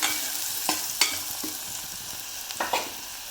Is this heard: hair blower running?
no